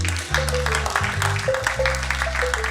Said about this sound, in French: Applaudissez encore pour Faithful.